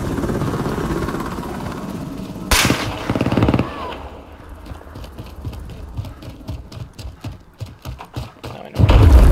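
A Fennec submachine gun with a 40-round drum firing in a team deathmatch video game, rapid bursts of close automatic fire separated by pauses, with a loud burst at the start and again at the end.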